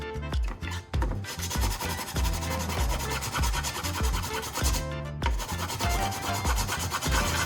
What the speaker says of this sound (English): I continue by using sandpaper or a sharpening stone to smooth the newly created cut surfaces